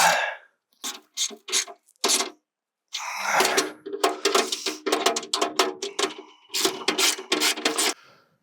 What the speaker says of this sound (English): Now I'll use a 17mm to tighten up those bolts